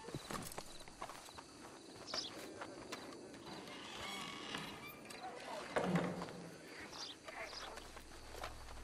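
Horse hooves clip-clop at a slow walk in Red Dead Redemption 2, irregular soft thuds fairly close amid faint ambient birds and mechanical sounds, with no talk.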